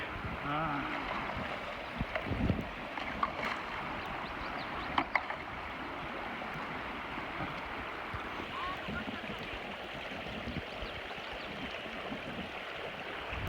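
A river flows at the start of a wilderness float trip in the Bob Marshall area: a steady rushing water wash with occasional splashes and knocks, continuous and fairly close.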